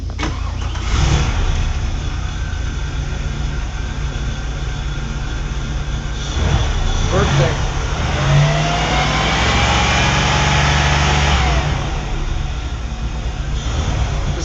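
A Chevrolet LT1 V8 starting and running, a loud steady engine drone with several revving swells rising and falling, while a person briefly speaks at the start.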